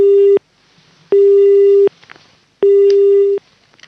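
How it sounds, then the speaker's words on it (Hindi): A telephone busy tone sounds after a call is cut off: three loud, steady beeps of under a second each, separated by short quiet gaps. "राकेश जी का फ़ोन कट गया है।"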